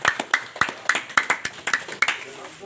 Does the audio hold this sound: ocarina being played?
no